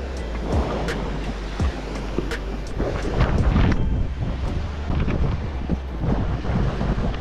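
Wind buffets the microphone on the seashore at Lizzano, with waves washing in beneath as a continuous rough roar that swells and eases, loud and close, with no voices.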